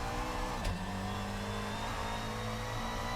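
GT3 race car engine lapping the Nordschleife in a racing sim, a steady droning engine note held at fairly even pitch, with a brief shift partway through, heard alone without talk.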